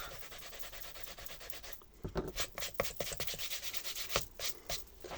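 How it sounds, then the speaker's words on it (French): An eraser rubs quick back-and-forth strokes across paper on a small Advent calendar craft, the scratchy rubbing close and steady over a soft constant hiss. "Ici, je vais venir gommer ceci parce que sinon, ça va se voir."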